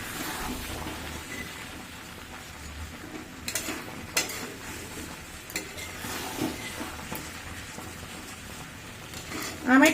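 A spoon stirs mango sweet-sour pickle in a pan, with soft scraping and clinking strokes over a faint sizzle, fairly quiet and close, ending in a louder clatter.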